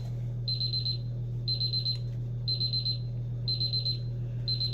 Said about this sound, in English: 15-minute timer is going off